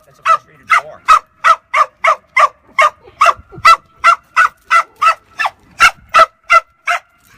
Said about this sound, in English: That's a frustrated whine. That's a frustrated bark.